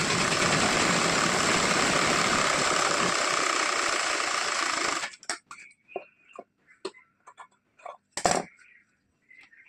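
A sewing machine stitches the side seam of a blouse, a rapid motor whir running continuously for about five seconds, then stopping, followed by scattered short clicks and handling noises.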